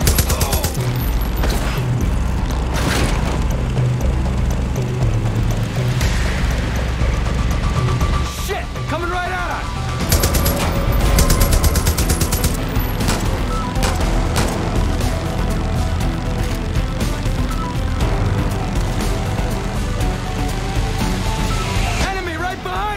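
Mounted turret gunfire in Far Cry New Dawn, dense bursts of rapid shots mixed with booms and vehicle noise, loud and continuous, with voices shouting over the action.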